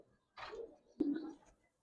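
Giribaz pigeons give two soft, short coos close by in a quiet setting.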